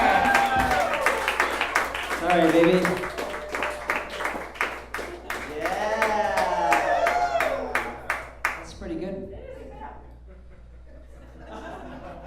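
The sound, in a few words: crowd cheering and clapping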